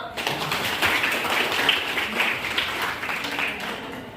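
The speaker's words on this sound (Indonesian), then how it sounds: "Berikan aplaus dulu." A classroom of students applauds, a dense, steady patter of many hands clapping at moderate distance that carries on evenly for several seconds.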